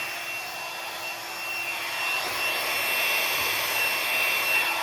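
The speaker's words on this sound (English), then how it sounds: "that's what the tool is doing, the blow dryer" A blow dryer blows a continuous, even whooshing rush across wet paint on an abstract artwork, held close and steady with no speech.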